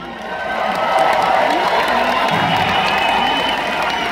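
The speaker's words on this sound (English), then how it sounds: "That wasn't a very big round of applause" Audience at a homeschool student show cheers and claps in a steady, fairly loud wash of crowd noise with shouts and whoops, sustained for several seconds.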